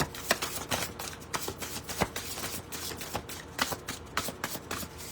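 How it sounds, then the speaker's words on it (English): Tarot cards are shuffled close by in quick riffling bursts, a series of crisp slapping flutters repeating at an uneven rhythm, with no voices. "Last shuffle."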